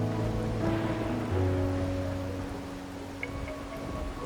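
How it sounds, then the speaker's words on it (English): Steady rain hiss falls in the video game Wuthering Waves, a continuous broad wash under sustained musical tones, moderately loud and even throughout with no talking. "Or are you simply passing the time until the rain ends?"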